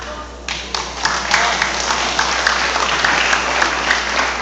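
An audience at a municipal meeting in Masinloc breaks into steady applause that starts thin, then swells into dense, continuous clapping that holds for several seconds, moderately close, with no talking over it.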